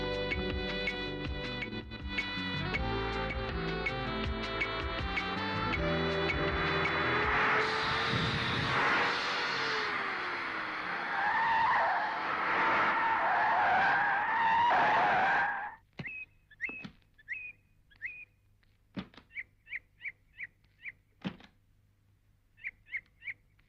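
A car arriving with its tires skidding, as a loud engine roar and screeching tire squeal that builds, holds and then cuts off. Several sharp short chirps and knocks follow in the sudden quiet.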